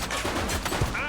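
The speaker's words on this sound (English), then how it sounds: "She's shooting!" A short, rapid burst of gunshots in the police game The Precinct, sharp and close, with a faint voice behind it.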